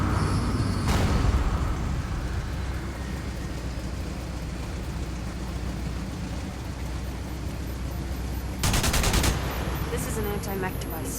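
Turret gunfire in Enslaved: Odyssey to the West, a rapid rattling burst near the start and another around the end, over a steady noisy hiss resembling rain throughout.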